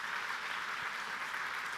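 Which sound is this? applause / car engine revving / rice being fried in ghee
applause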